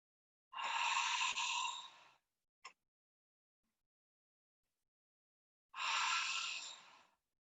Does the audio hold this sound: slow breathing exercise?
yes